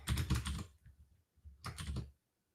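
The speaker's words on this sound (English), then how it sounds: "And while we're typing this" Rapid clatter of typing on a computer keyboard, close and fairly loud, in two bursts separated by a near-silent pause of about a second.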